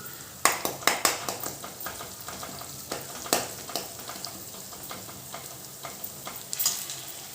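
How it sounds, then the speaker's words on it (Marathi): Asafoetida hits hot oil beside softened onion and tomato for a home-style sambar, giving a steady close sizzle with a cluster of sharp spoon taps on the pan at first and scattered clinks later. "आता हिंग टाकूया एक साईडला तेलामध्ये"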